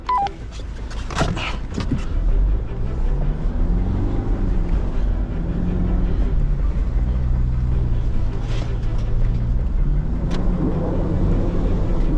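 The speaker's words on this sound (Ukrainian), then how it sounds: "Прадо їде." A Toyota Prado SUV drives on a mountain trail in the Carpathians, its engine a steady loud rumble that continues through the whole stretch, with some scraping and knocking near the start.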